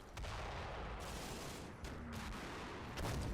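Mortar shells land in a combat wargame, a dense run of rumbling impacts and crackling blasts that swells and surges in waves, fairly loud and continuous with no voice over it.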